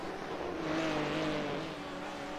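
Race cars on the Suzuka circuit in iRacing's LeMans Series, engines droning with a rising and falling whine as the cars pass, steady and moderately loud with no talk.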